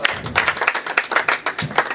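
Audience applause at a Hindi poetry recital, a steady burst of many hands clapping close up with no voices over it, holding for about two seconds.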